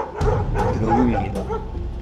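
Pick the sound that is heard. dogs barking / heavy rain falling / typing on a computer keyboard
dogs barking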